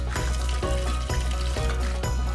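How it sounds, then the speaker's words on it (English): Gravy sizzles loudly and continuously in a hot pan, with faint rhythmic knocks every half second or so and no voices. "I love the sound of sizzle."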